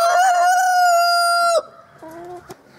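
Chicken at a backyard coop gives a loud, sustained crowing call close by, followed by softer clucks and short squawks.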